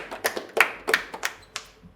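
A small comedy-club audience claps in scattered, uneven bursts: about a dozen sharp hand claps over two seconds, fairly close and moderately loud, with no talking over them.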